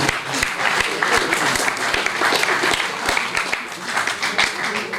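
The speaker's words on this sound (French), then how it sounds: "c'est Georges, on peut l'applaudir" Audience at a sports club's awards reception in St-Sever applauds the club president, a dense continuous round of clapping with sharp individual claps standing out near the front, steady for about five seconds.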